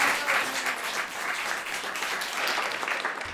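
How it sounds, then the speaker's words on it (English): Dense, steady applause from an audience at a live talk show, filling the whole stretch at a fairly loud, even level with no voices over it. "So let's give her a round of applause."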